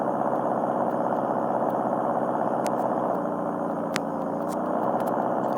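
Car engine humming steadily while driving a mountain road on the Transfagarasan in Driving School Sim 2020, a close, even mid-pitched drone with a slight change in tone partway through and a couple of faint clicks, no talking.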